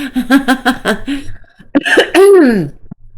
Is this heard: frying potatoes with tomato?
no